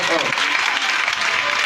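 Church congregation applauding and cheering for Jesus, a dense, loud wash of clapping from a crowd with voices mixed in, steady throughout.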